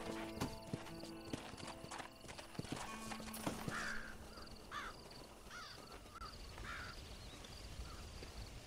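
Hooves clip-clop in a quick galloping rhythm from a horse in the Red Dead Redemption video game, with whinnies and crow caws rising above a steady outdoor ambience.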